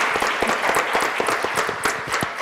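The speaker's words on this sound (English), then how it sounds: "Please, a round of applause." Audience at a public health ethics forum applauding, individual claps distinct and fairly close, a moderate crowd clapping steadily for a couple of seconds.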